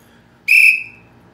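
One short, sharp blast from a survival-kit whistle with a pea inside, loud and shrill, lasting about a third of a second before fading into quiet.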